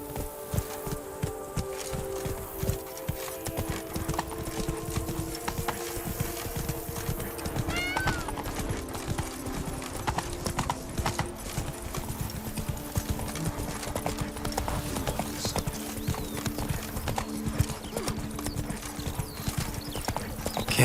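A horse in The Witcher 3 clip-clops along at a steady, rapid gait, hoofbeats close and continuous throughout, with a brief whinny and faint background sounds.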